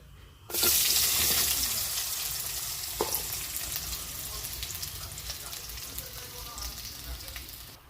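Fennel seeds and onion hit hot oil in a pan with cinnamon and clove, bursting into a loud sizzle that slowly eases into a steady frying hiss with occasional stirring taps.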